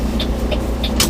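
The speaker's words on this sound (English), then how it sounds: "This is a busy road and there's a turn right here." Traffic on a busy road near a turn, a steady low engine hum of passing cars with a few brief hissing swishes, one sharper near the end, close and continuous without talk.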